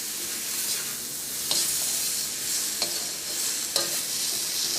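Chicken curry ingredients are stirred in a pan with a steady sizzle throughout, and a few sharp scrapes of the spoon stand out now and then.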